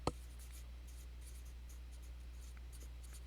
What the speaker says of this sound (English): so I'm going to write some equations here.